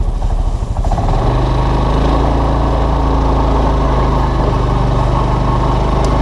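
A Linhai Big Horn 400 4x4 ATV with an intermittent crank-and-stall fault idles close by, a loud, steady low engine drone that settles into an even idle after a brief uneven moment at the start, no speech.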